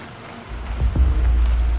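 Rain falls on Mars in the survival game Planet Crafter, a steady broadband hiss that swells in after a quiet start and holds at a constant, fairly close level with no voices.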